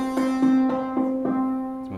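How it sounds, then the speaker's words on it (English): A synthesizer plays a sustained, steady pitched tone through a filter set without resonance, sounding plain and straight, with several soft repeated attacks pulsing about every quarter second, moderately loud and alone. "Without any resonance, it'll sound like this."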